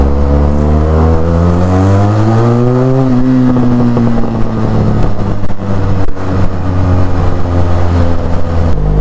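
A motorcycle engine revs up loud and close, its pitch climbing over a few seconds and then easing back to a steady idle rumble with small throttle blips.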